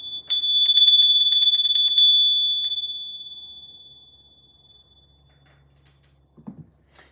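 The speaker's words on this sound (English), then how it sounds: "first I'm going to ring the bell." Small handheld bell rung rapidly for about two seconds, a bright, high metallic jangle that then rings on and fades slowly over several seconds, followed by a brief soft knock near the end.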